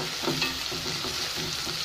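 Spring onions frying in a pan with salt and turmeric give a steady, fairly loud sizzle with soft stirring scrapes through it, and no voices.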